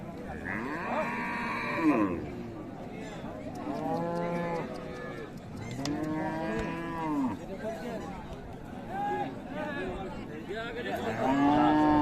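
Cows mooing at Raniganj cattle market among Friesian cows and calves, several loud drawn-out moos one after another close by, over a steady murmur of crowd chatter.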